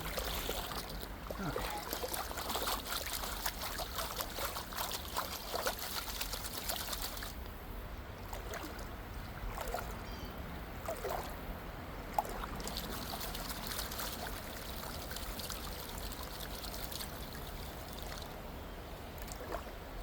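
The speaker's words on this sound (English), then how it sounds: "I want some deeper water to pan in." Panning for gold in stream water, with continuous sloshing, trickling and pouring of water close by, steady throughout with a brief louder splash near the middle; no talking.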